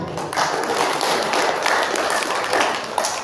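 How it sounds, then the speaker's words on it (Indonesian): Participants at an organisation's plenary meeting session applaud together, a sustained, even wash of many hands clapping at moderate distance with no talk over it. "Saya minta tepuk tangannya sekali lagi."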